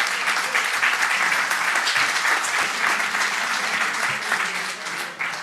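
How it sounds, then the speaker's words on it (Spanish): Audience at a conference on wills, inheritances and taxes claps after a talk, a dense, sustained round of applause that stays loud throughout, then eases slightly near the end. "fuerte el aplauso para Ricardo de la Dueña, por favor."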